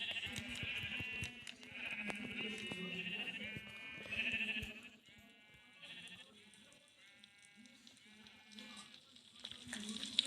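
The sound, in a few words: sheep bleating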